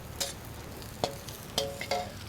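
Morning glory, Chinese cabbage and celery being stir-fried in a pan, heard as a few brief scraping and clattering stirs over a faint steady sizzle, with no talking.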